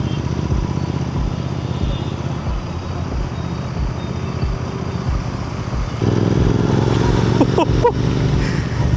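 A Royal Enfield GT 650 motorcycle fitted with a Silver Stallion aftermarket exhaust idles with a loud, steady thumping burble, then the engine note rises and thickens as the revs are held higher.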